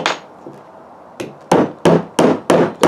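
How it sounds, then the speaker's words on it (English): A small thin nail is driven into wood with a hammer. After a few light taps comes a run of five sharp, evenly spaced strikes, loud and close, with no talking. "So I'm going to hammer that in."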